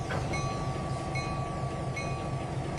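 A diesel train under throttle in the Trainz 2022 simulator, with a continuous low engine rumble and tonal whine holding steady and running alone without any talk.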